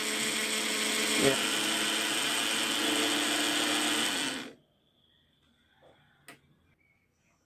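An AC motor whirs loudly with its rotor spinning clockwise, a dense steady mechanical buzz for about four and a half seconds before it cuts off abruptly, followed by near silence with a faint click and a brief spoken word.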